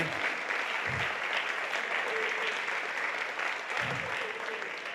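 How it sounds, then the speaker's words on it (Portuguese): Steady, dense applause from a church congregation fills the whole stretch, loud and even, with faint voices rising briefly underneath. "Vamos aplaudir!"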